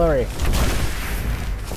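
Artillery fire in a video game, opening on a sharp blast that falls away into a rumbling, noisy roll of distant shelling lasting under two seconds, with a voice briefly audible at the start.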